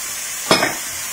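Prawns, courgettes and chili sizzle in a pan with a soft constant hiss, broken by one short burst of stirring, brief and fairly quiet.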